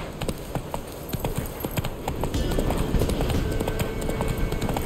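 Roach, Geralt's horse in The Witcher 3: Wild Hunt on PlayStation 5, gallops with a steady, rapid clip-clop of hooves, moderately loud and continuous with no talking.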